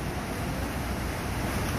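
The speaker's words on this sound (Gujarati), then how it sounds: "ઓહો કેટલા મોજા ઉછળે જોયું દીશું" Ocean waves surge and churn near a foggy shore, a steady broadband roar with wind buffeting the microphone throughout, no individual breakers clearly separated.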